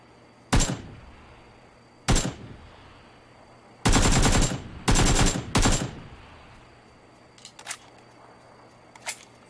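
Rifle fire in a PUBG-style shooter with a Kar98 and AKM: two sharp, loud single cracks, then two rapid bursts, followed by fainter, more distant shots trailing off.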